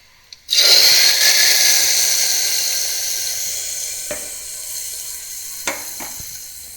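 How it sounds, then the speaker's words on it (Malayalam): Hot oil tempered with mustard seeds, cumin and curry leaves is poured into an ash gourd pulissery, starting with a sudden loud hiss that slowly fades into a steady sizzle, with a few clicks close by. "പുളിശ്ശേരി റെഡിയായി കടുക് വറുത്തൊഴിച്ച്"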